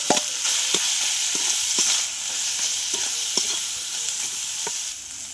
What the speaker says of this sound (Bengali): তিল দিয়ে দিলাম, তো ফুটটা দিয়ে দিলাম, আমি নেড়ে নেব ভালো করে